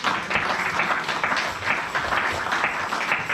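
A church congregation applauds to acclaim the Lord during a sermon, steady mid-distance clapping with murmuring voices mixed in, sustained throughout.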